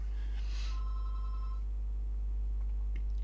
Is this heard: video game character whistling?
no